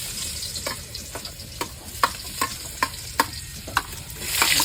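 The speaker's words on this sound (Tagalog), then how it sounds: "mainit na yung ating mantika at ilalagay na natin itong ating bawang at saka sibuyas" Garlic and onion sizzling in hot oil in a pan, a steady crackling hiss cut by a regular series of sharp spatula taps and scrapes, roughly every half second, with the sizzle swelling at the end.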